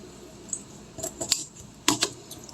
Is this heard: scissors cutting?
yes